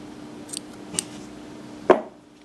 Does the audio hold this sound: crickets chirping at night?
no